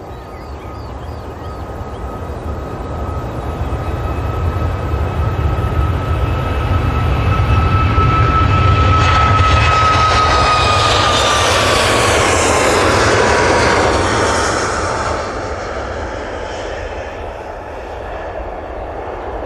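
A Boeing 737 MAX 8 at Manchester Airport passes loud and close, its jet engines building to a peak with a clear whining tone that slides downward as it goes by, then easing back to a steady roar.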